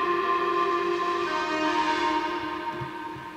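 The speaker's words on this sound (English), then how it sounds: "So we just took like a serum preset and added like a bunch of distortion" Distorted synth chords from a Serum preset, with reverb and glide so the notes slide into each other, hold as one sustained, bright, steady pad for the whole stretch, loud and alone.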